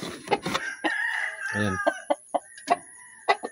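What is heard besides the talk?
chickens clucking and rooster crowing at feeding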